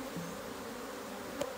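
Honeybees buzz during a natural hive split, making a steady, faint, close drone with a brief sharp tap near the end and no voices.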